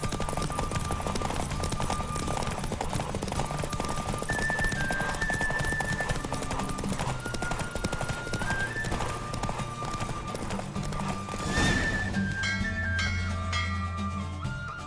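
Hooves clip-clop steadily at a gallop during a horse race in The Witcher 3: Wild Hunt, continuous and close, over a backdrop of game music and ambient sound.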